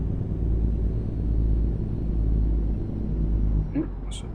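Truck engine brake in American Truck Simulator, a deep, steady, loud rumbling drone that holds evenly for several seconds before a brief high chirp near the end.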